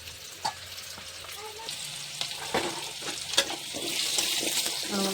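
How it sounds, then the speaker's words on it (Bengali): Potatoes and onions fry in a pan with a soft sizzle and occasional stirring clatter, fairly quiet and close, with some watery splashing sounds mixed in. "আলু পেঁয়াজ ভাজা গেল"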